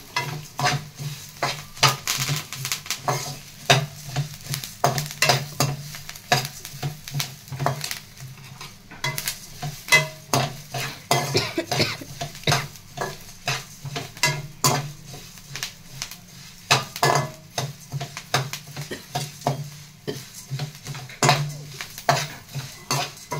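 Curry leaves frying in a pan for chili powder, a spoon scraping and stirring in repeated rhythmic strokes over a soft steady sizzle, close and without talk.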